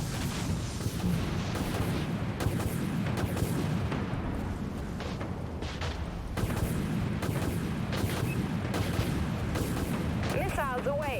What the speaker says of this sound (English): Missiles away. Reloading missile silos. Torpedo away.